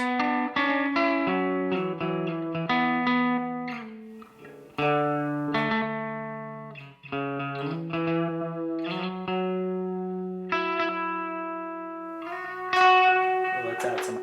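Electric guitar notes, from a Fender Telecaster, run through an EarthQuaker Devices glitch effects pedal, stuttering and warbling with bright distorted tones and shimmering repeats.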